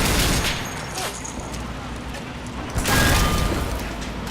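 Battlefield gunfire from the World War II strategy game Men of War: Assault Squad 2, a forest fight with tanks and troops: a dense, continuous crackle of shots and booms, with a louder burst near the end, under a speaking voice.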